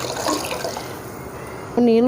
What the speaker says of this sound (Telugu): నీళ్ళు పోస్తున్నా నేను.